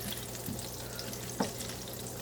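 Butter with a little oil melts in a pan before beef goes in, giving a soft, steady sizzle and frying hiss, fairly faint, with a couple of light stirring taps.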